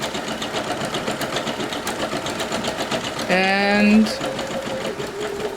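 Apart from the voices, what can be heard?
Singer Legacy SE-300 embroidery machine stitching an appliqué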